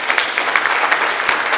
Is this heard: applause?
yes